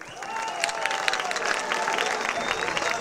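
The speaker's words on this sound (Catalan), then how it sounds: "Sisplau, un aplaudiment." Audience applause and crowd noise for a band playing African reggae, a dense steady patter of many hands clapping at a live concert with some cheering mixed in.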